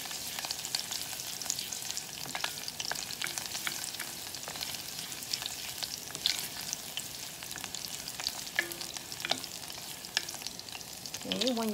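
Garlic fries in hot oil in a pan while being stirred, giving a steady, close crackling sizzle with scattered scraping clicks from the utensil throughout, and no voices.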